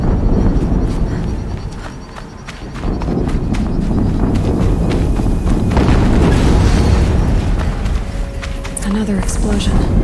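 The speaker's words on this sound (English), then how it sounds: "Another explosion." Explosions in the video game Horizon Zero Dawn, deep loud booms over a dense, continuous rumble of game sound and music, with a brief dip before the noise swells again.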